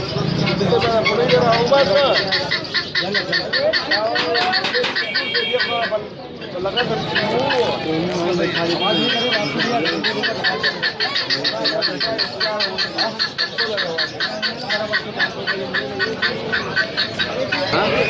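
Birds at a Sunday bird market in Saddar, Karachi, with dense overlapping squawks, quacking and chirps from many caged birds, continuous and loud, while people talk nearby throughout.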